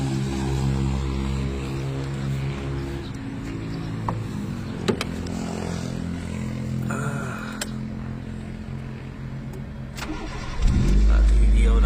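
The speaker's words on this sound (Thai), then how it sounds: "จะมาสตาร์ทเครื่องให้ดูนะครับ" A used Daihatsu Mira TR-XX car sits idling with a low, steady engine hum and scattered clicks from inside the cabin, then the engine is cranked and starts with a loud rising roar near the end.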